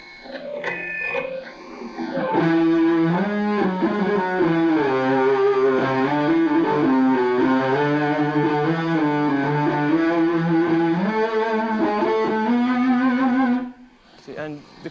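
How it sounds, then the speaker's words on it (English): An electric guitar played through a phase pedal and amplifier holds long, continuous cello-like sustained notes, a loud, smooth melodic line that swells and glides for about eleven seconds before cutting off. "I was using a phase pedal then, yeah, which is one of the effects which I do like to use on stage"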